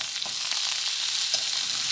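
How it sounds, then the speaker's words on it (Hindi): Potatoes with peanuts and chopped fresh coriander being stirred in a frying pan, a steady close sizzle with faint scraping, no voices. "अब हम इसमें अभी जो है वो जो हमने हरा धनिया काट रखा था वो डाल लेते हैं, मिला लेते हैं अंदर।"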